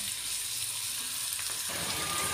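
Peppers sauté in a hot pan for a karnıyarık, giving a steady close sizzle and crackle with a light stirring scrape and no voice.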